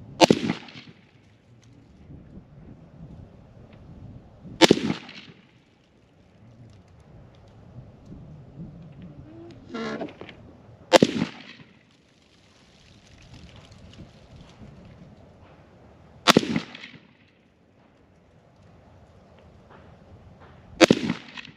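Five sharp, loud gunshots from an IWI Tavor 7 rifle at an outdoor range, each a sudden crack spaced several seconds apart, with quiet wind and ambient noise between shots.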